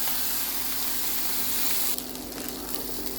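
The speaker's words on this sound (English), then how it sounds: "Let's fry for about 1 minute." Food frying in a pan while preparing fish fillet with rice gives a steady, moderately loud broadband sizzle and hiss, which dips slightly in level partway through and continues without any talk.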